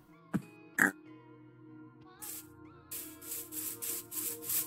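A pig oinks in the video game Minecraft: a few short grunts early on, then louder rustling game sounds follow, with no talking.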